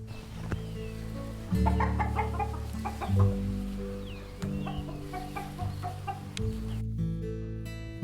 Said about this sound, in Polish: Na uwagę zasługują tutaj kolorowe kury w typie kur chłopskich czy zagrodowych.